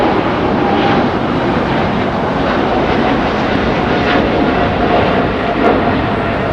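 Boeing 777 jet airliner roaring loudly past at Los Angeles airport, a dense, steady engine rumble that fills the whole clip with no voices.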